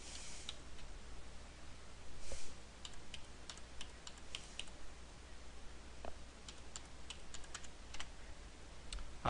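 Faint, irregular clicks of keys being tapped on a computer keyboard come in short bursts over a low steady room hum.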